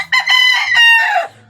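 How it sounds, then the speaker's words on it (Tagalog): A rooster crows nearby, one long loud cock-a-doodle-doo with a rising start and a drawn-out falling end, standing alone with only faint low background hum. "Talagang mahirap talaga mag-edit kapag may manok."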